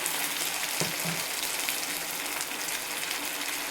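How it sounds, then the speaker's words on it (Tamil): Onions and puréed tomato sauté in a hot pan, a dense, loud, continuous sizzle close up with a brief low bump near the start, and no voices. "சேர்த்து நல்லா அதுவும் பச்சை வாசம் போகிற அளவுக்கு வதங்கி வரட்டும்"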